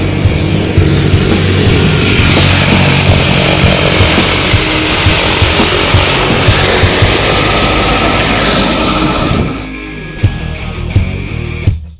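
Loud, steady drone of an airplane engine before a skydive, a dense propeller roar held for about nine seconds before it drops away into quieter rattles and knocks.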